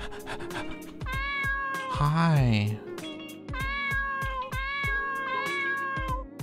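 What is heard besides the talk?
cat meowing in the video game Dave the Diver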